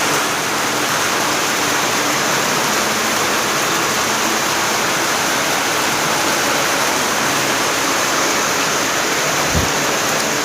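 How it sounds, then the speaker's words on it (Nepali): Heavy, non-stop rain pours down outside a house, with runoff flowing past: a dense, constant roar of water, loud and close, unbroken throughout and with no voices. "चैतको महिनामा पनि यस्तो पानी आइरहेको छ।"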